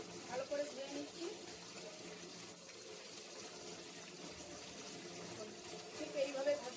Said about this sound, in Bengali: আর একবার আমি ভালো করে ধুয়ে নিচ্ছি।